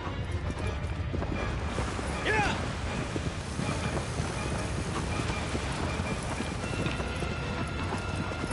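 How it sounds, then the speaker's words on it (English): Horse hooves gallop in a steady clip-clop rhythm in the video game Shadow of the Colossus, loud and continuous under a dense wash of wind and game ambience. "That horse really wants to slow down."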